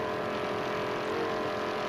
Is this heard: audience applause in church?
no